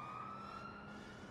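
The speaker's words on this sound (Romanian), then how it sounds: "S-a dus salvarea." Ambulance siren in the Watch Dogs 2 video game, a steady tonal wail heard faintly and continuously in the background with no talk.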